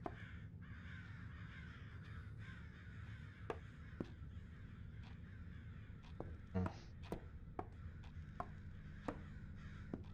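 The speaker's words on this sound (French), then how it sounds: "Corbeau mort." In a horror video game, a crow caws repeatedly at a distance, the calls spaced out over a low ambient drone, mixed with faint clicks and taps.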